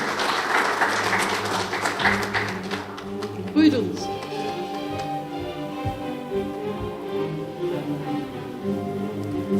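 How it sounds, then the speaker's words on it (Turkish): A crowd at an artificial intelligence technology event applauds for a few seconds, then the clapping fades out under background sound and murmuring. "Alkışlarınızı sahneye davet ediyorum."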